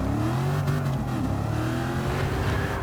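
Shelby Cobra 427 in Gran Turismo 7 revs hard with a loud, steady engine roar and shifting pitch, close up and without speech.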